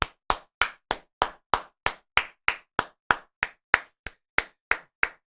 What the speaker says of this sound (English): Give a round of applause for the culture, man.